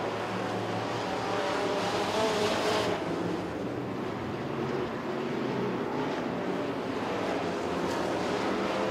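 Super stock race cars roar around Crossville Speedway in a steady, dense drone of engines, loud and continuous with a shift in tone midway as the pack passes.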